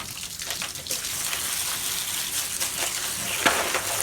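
Water from an ordinary garden hose sprays onto plastic planting cups piled in a basket, a steady broad hiss and splatter with a few brief sharper splashes throughout, no talking.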